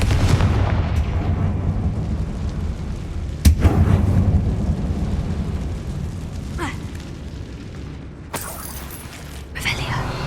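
Blasting spell explosions in Hogwarts Legacy inside a closed mine, a deep booming rumble with sharp cracks near the start and midway, then lighter bursts later, amid low ambient game sound.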